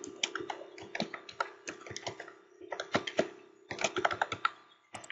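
Quick bursts of typing on a computer keyboard as a search name is entered, irregular clusters of close, crisp key clicks separated by brief pauses, with no talking.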